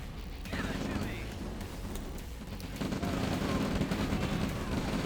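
Artillery fire in a real-time strategy game match, booming blasts and battle noise rolling continuously under a commentator's steady talk.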